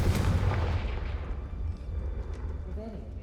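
A Confringo fire spell from the Hogwarts Legacy video game bursts in a loud, booming blast that rumbles on, with a spoken voice over the low roar.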